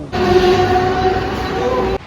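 A Mumbai local commuter train on the Uran line runs loudly nearby, a steady rumbling roar with faint squealing tones, cutting off abruptly near the end.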